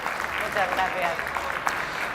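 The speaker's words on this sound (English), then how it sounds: "Let's have an applause" Steady applause from an audience at an Iberdrola shareholder day in Plaza Iberdrola, a dense patter of clapping that carries on throughout while a voice speaks over it.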